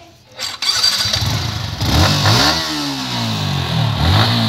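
A Yamaha R15 motorcycle engine starts and revs up and down repeatedly, close and loud, with someone speaking briefly over it.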